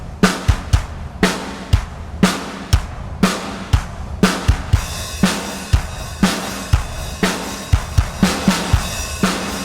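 Drums driven hard through a Heavyocity Punish Lite plugin, a steady loud groove of crushed, saturated kick and snare hits with harsh, compressed cymbal wash filling the gaps between them, no voices.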